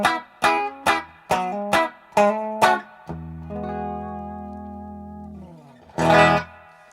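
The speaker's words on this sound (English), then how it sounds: "If I bring the dwell back a bit, you can hear that it really takes the reverb down a lot." An electric guitar through an amplifier's spring reverb with the dwell turned down: several sharp plucked notes, then a sustained chord fading with only a short, subdued reverb tail, and a final strum.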